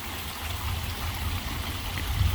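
Steady rushing, splashing water with a low rumble from a lit garden waterfall spilling into a pond in a yard at night, continuous and fairly close, with no voices.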